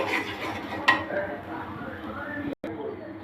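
Taro greens being stirred in a pot, with soft scraping and a sharp clink of the utensil against the metal, close and moderately loud beside faint background noise.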